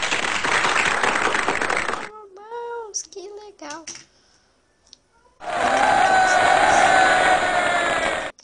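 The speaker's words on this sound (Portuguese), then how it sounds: "Parabéns, vamos aplaudir." A crowd claps and cheers in a dense, loud burst of applause that cuts off abruptly, then returns after a pause. Between the two bursts a voice speaks briefly.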